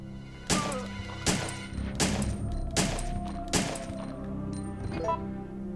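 Five sharp, loud gunshots fired at an even pace about three-quarters of a second apart in Resident Evil 3 on Hard Mode, each one cracking out and then ringing briefly.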